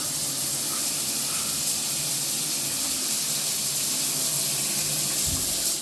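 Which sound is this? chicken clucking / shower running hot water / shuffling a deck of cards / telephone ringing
shower running hot water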